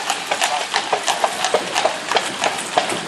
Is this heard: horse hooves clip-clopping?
yes